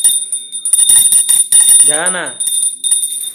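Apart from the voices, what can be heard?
hand bell rung during Hindu puja at home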